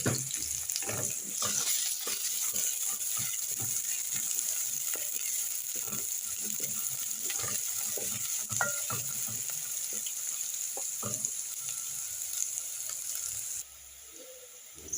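Onions frying in hot oil for githeri, a steady crackling sizzle with scattered pops and occasional stirring clatter, close and continuous for nearly the whole stretch before dropping off at the end.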